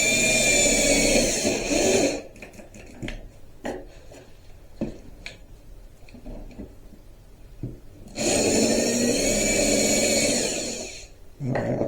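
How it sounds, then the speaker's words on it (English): Cordless drill with a failing battery, driving into wood while building a drill press stand: two loud bursts of motor whine separated by a quieter stretch of handling and clatter. "my stinking drill battery's messed up"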